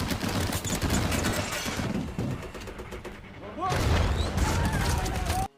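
Rapid war-movie gunfire rains down on a tank, a dense barrage of shots and thuds that dips briefly and then surges back loud before cutting off abruptly.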